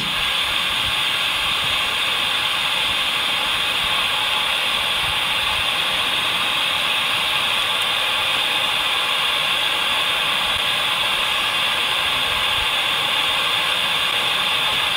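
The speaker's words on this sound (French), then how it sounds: "utilisez le bruit blanc généré par la radio pour laisser votre message" Radio generating continuous white noise at night in an old priory, a steady loud broadband hiss with no breaks, no talk.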